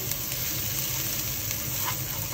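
Onions frying with cumin powder, turmeric and salt give a steady, close, dense sizzle with light crackling throughout and no voices.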